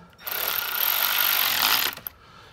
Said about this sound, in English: And just gonna slowly draw these bolts in.